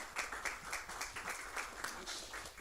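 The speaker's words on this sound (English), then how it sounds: "let's give him a round of applause" Rhythmic clapping from a small city council meeting audience honoring a nonprofit CEO, a few distinct hands beating steadily and fairly quietly, with no voices over it.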